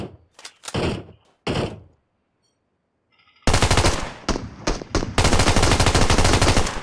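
SKS rifle fire in PUBG Mobile, a few loud sharp shots, then a brief near-silence, then a dense close volley of heavy cracks.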